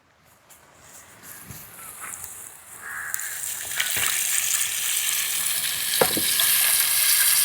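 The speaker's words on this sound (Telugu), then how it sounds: "ముందుగా కలుపు చేసుకున్న చేప పులుసుని తిరగమాతలో పోస్తున్నా" Fish tamarind curry with small pond fish poured into hot tempering oil with softened tomato and onion, starting quietly and building into a loud, steady sizzle with scraping stir sounds and a few clinks.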